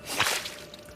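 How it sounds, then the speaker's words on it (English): A cartoon squirting-flower gag, a quick wet spritz and splash lasting a fraction of a second, sharp at the start and then fading out. "The squirting flower is a classic."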